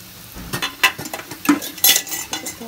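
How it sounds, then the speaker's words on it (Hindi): Potato-stuffed bread pakoras deep frying in oil, with a soft sizzle under repeated clinks and scrapes of a metal utensil against the pan, close and irregular, with no speech. "अभी ये बड़े पीस आपको फ्राई करके बता रही हूँ"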